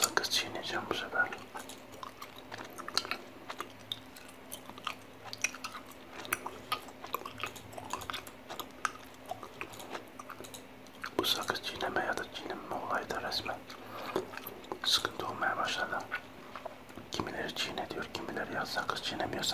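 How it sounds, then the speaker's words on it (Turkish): Gum chewed slowly and wetly close to the microphone, with soft clicks and smacks running steadily throughout while a whispering voice talks almost continuously over it in an intimate ASMR setting. "Sakız çiğneyeceğim bu sefer."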